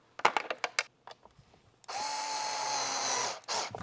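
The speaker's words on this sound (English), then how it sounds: "I'm using a power tool" A few quick taps and clicks, then a power drill driving screws whirs steadily for over a second, pauses briefly, and spins up again, close by, while LED lights are installed on a Honda Gold Wing.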